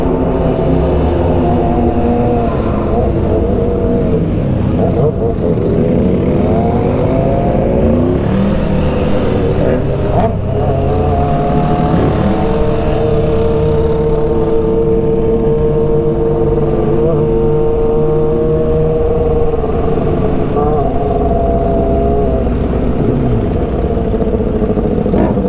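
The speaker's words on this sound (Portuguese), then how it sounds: "Só pelo barulho do motor pra ver" Several motorcycles in a convoy through the east zone rev and accelerate together, a dense, loud, continuous engine roar with rising and falling revs throughout, close by.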